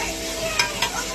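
A fish roe fritter curry is sautéed in a pan with a little oil and spice, giving a continuous close sizzle marked by two brief scraping stirs of a spatula, with no talking.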